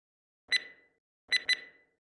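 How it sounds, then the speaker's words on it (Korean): An electronic emergency alarm sounds in short, bright beeping bursts: a single burst, a pause, then a quick double burst. The bursts are clear and isolated against silence. "비상벨이 울렸습니다"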